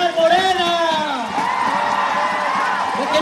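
A crowd at an outdoor campaign rally in Tecámac shouts and cheers loudly, with rising and falling voices blending into a sustained roar from start to finish.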